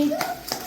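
Two quick hand claps ring out close by at a small child's birthday party, with voices talking around them.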